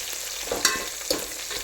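Green chillies and onion frying in oil for a mutton curry, a soft steady sizzle with two quick metallic taps of a spoon on the pan, no voices.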